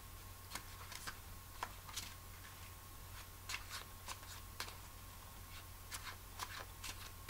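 Tarot cards being shuffled by hand on the spot, a series of quiet, crisp riffling bursts and soft slaps at irregular intervals over a steady low background hum.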